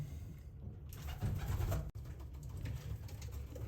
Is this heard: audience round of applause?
no